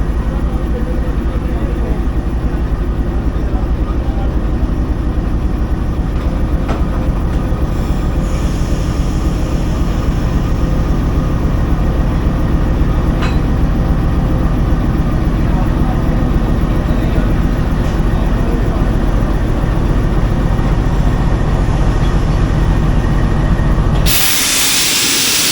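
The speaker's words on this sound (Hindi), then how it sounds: "और अभी जी कपलिंग होगी" A locomotive couples onto the Faiz Ahmed Faiz passenger train at a Lahore station, heard as a loud, heavy diesel rumble with hissing air, a couple of sharp metallic clanks, and an abrupt drop near the end.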